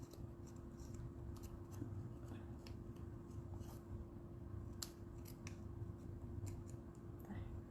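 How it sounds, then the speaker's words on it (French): Scissors snip through paper for card making, a quick series of small crisp cuts, close and quiet, over a faint steady hum. "J'aime pas ça le couper au ciseau, là."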